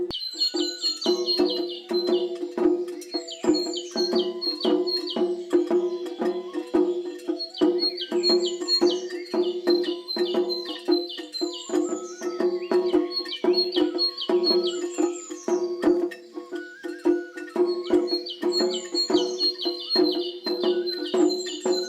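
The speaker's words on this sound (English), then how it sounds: "Every morning, Julia would wake up to the melodious chirping of birds" Songbirds chirp and twitter in a garden, with dense overlapping calls repeating steadily and fairly close throughout, and no voices.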